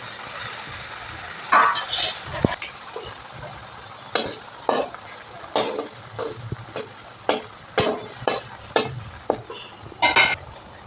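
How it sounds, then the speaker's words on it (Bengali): Balls of chhana fry in hot soybean oil in a kadai, a quiet sizzle broken by a dozen brisk scraping and tapping spatula strokes in an uneven rhythm, fairly close. "তেলটা গরম হয়ে গেলে এবার প্রথমে এই ছানাগুলোকে ভেজে নেব"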